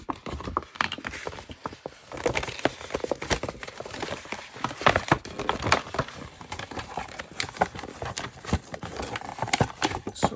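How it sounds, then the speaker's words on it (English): Thrifted paper items crackle and crinkle as they are handled, close by, in an uneven run of sharp rustles and taps that comes and goes, with no talking. "Sorry for the rustling"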